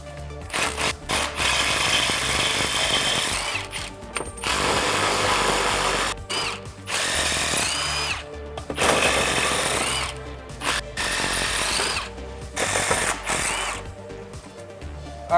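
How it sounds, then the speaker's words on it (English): A power tool zips the six 10mm bolts off the rear CV joint of a 2018-2019 Mustang GT driveshaft, giving repeated loud whirring bursts with short gaps and clicks between them, up close and without talk. "We're gonna be removing the 6 10mm bolts that are holding on the rear CV joint."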